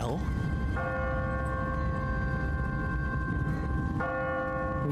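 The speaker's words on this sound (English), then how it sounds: "What kind of church bell goes off at 20 past the hour?" An automatic church bell in the Telltale Walking Dead game rings with sustained metallic tolls, struck twice and left to hum between strikes, over a loud noisy background with some voices.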